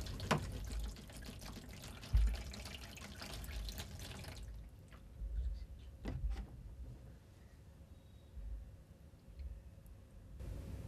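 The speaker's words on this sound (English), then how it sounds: "Now pour cold water over the bottle and watch it get crushed." Cold water poured over a plastic bottle in a loud splashing stream for a few seconds, then stops; a few later bursts of pouring and faint crinkling as the bottle is crushed follow.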